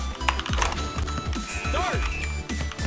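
Computer keys are pressed in quick, uneven bursts of clicks during a Freestyle 2 street basketball game, with game sounds and a short tonal effect mixed in close by.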